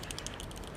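Red linear mechanical keyboard switches typed rapidly, a dense, even patter of smooth light keystrokes close by, steady and moderately quiet with no voices.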